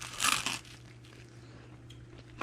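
A crunchy bite into homemade vegan pizza crust, a short crisp crackle up close at the start, then quiet chewing with a faint hum in the background and no talking.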